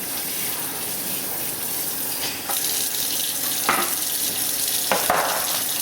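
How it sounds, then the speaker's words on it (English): Continuous hiss of water sprayed over a wheatgrass tray sitting on a drainage tray, steady and close, with a few brief stronger spurts. "you're supposed to water it very well, and I'm going to spray it here"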